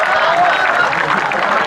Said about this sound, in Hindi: अच्छा, ऐसे ही ताली बज गई जैसे आप में से कुछ बजा रहे।